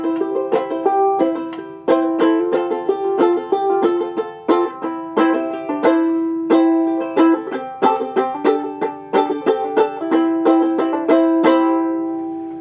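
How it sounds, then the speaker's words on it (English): A Gold Tone Little Gem banjo ukulele is strummed and picked in a bright, plunky melody of quick, crisp plucked notes with a steady rhythm, close and clear, with no talk. "is a banjo ukulele from a company called Gold Tone. And this one is called the Little Gem."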